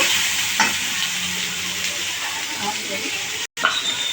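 About twenty prawns fry in a pan with a steady, close sizzle that runs almost unbroken, dropping out briefly near the end.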